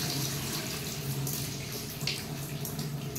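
Steady stream of water running from a tap into a cooking pot for dal and vegetables, an even, continuous rush with no pauses, close and moderately loud.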